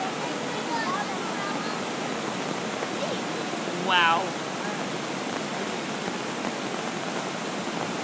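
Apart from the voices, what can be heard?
flooded creek water rushing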